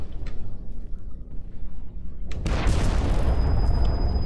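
A sudden loud explosion in the video game Sniper Ghost Warrior 2 breaks over quieter ambience, becoming a sustained, dense roar that holds to the end.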